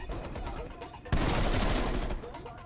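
Rapid gunfire in the Call of Duty Cold War video game, where scattered shots give way to a sudden, loud, sustained burst of automatic fire lasting about a second before easing off.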